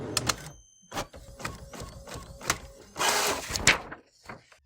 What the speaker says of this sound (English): The printer will print out the N-652 form